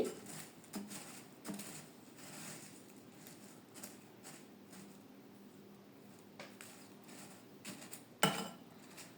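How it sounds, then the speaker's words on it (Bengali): A spoon stirs jhalmuri, spiced puffed rice, in a bowl, making faint, continuous dry rustling and scraping with soft, irregular clicks and one sharper tap near the end. "এবার আমি চামচ দিয়ে ঝালমুড়িটা মাখিয়ে নিচ্ছি।"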